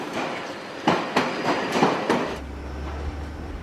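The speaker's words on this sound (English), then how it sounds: "Today, Karen Jordan is driving a Northern Line train for the first time in 3 months." A London Underground Northern Line train rattles along the rails with rhythmic clickety-clack thumps, then settles into a low steady hum as it runs on.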